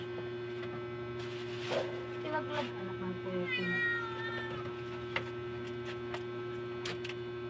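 A pet cat meows at its owner indoors, giving a few faint, drawn-out calls beneath a steady electrical hum, with a person speaking nearby and brief scattered clicks.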